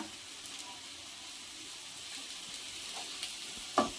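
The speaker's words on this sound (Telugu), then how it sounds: "వేసుకొని బాగా కలుపుకున్నాము వేగుతుంది కదా" Chicken liver frying with curry leaves and coriander in a pan, a steady soft sizzle with occasional stirring scrapes and a sharper clink near the end.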